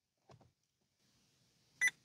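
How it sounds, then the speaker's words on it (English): Vauxhall Corsa D instrument cluster gives a single short electronic beep near the end, preceded by a couple of faint clicks in a quiet car interior. "And now, after a few seconds, we hear a beep"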